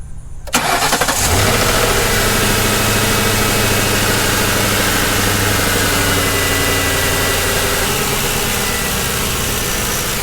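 A car engine starts and settles into a steady, loud idle after the serpentine belt, idler pulley and tensioner have been replaced, the running drone continuing evenly with no talking.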